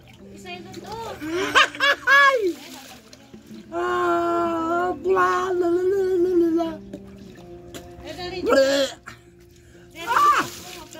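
Water splashes in bursts during a home bath, poured or scooped over the body, mixed with giggles, laughter and a child's and adult's voices talking close by.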